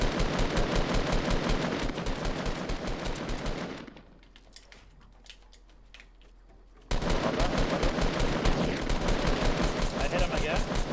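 Rapid automatic gunfire from a burst assault rifle in the game Fortnite, loud and dense, running in two long stretches with a quieter gap between them, with people chatting faintly over it.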